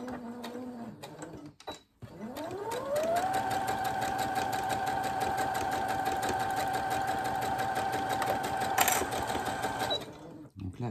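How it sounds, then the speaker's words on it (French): Sewing machine stitching fabric 1 cm from the edge, a steady rapid mechanical whir that ramps up and runs continuously for several seconds before stopping, close and alone. "Maintenant, je couds à 1 cm du bord. Je reprends ma machine."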